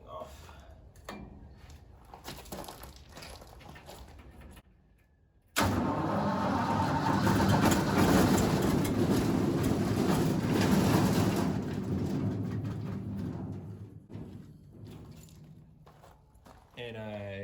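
A small engine on full choke being pull-started, a quiet stretch giving way to a loud rough running roar that fades back down, with a person talking around it.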